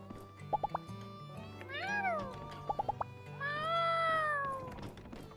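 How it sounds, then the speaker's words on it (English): A cat meowing in the My Time at Sandrock video game: two drawn-out, rising and falling meows, close and clear, with short clicky plucks and a soft musical background between them. "Stupid cat, get out of here!"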